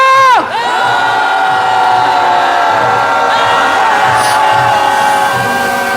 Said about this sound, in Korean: 떠나라는 염원을 담아 함성 질러보도록 하겠습니다. 함성 시작!